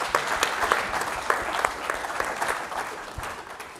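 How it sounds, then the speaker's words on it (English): Audience applause at a session on entertainment platforms, a crowd of hands clapping with distinct sharp claps standing out, loud at first and gradually tapering off. "give them a round of applause"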